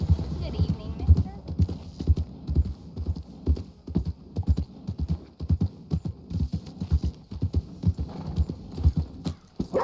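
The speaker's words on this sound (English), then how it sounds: "Fucking horse, get out of the way" Horse hooves clop in a steady rhythmic series within a video game, with a brief whinny, while voices talk over the hoofbeats.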